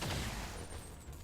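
In the XCOM 2 Long War 2 video game, a weapon fires a single heavy, booming energy shot that fades quickly into a short ringing tail, loud and alone with no voices over it.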